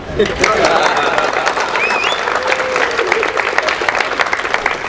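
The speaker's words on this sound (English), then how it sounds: "Clap lah." An audience claps steadily and fairly loudly, with voices and a few whoops mixed into the applause throughout.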